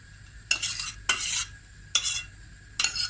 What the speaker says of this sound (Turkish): Sosu da bolca şöyle döküyorum.